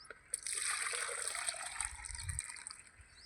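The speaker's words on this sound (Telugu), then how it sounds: "ఒక లీటర్ వాటర్ కూడా మనం ఇందులో కలుపుకోవాలి" Water pours steadily into a container of fresh desi cow urine for bijamrutham, a close, continuous trickling splash with a brief low gurgle toward the end.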